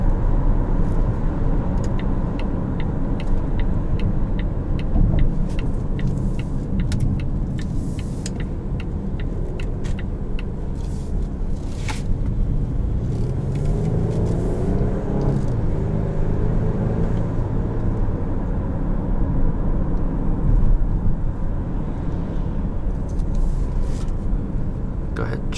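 Cabin of a 2019 Volvo XC60 T5 Polestar on the move, a steady low road and engine rumble with occasional light rattles, while a person talks over it.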